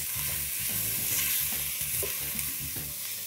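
Finely chopped onion hitting a hot oil tempering crackles and sizzles loudly and up close, with quick scraping stirs pulsing through the continuous frying hiss.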